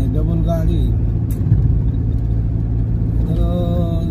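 A car rumbles steadily along a narrow single-lane mountain road above a deep valley near Srisailam in Andhra Pradesh, its engine drone continuous and close while a person talks over it.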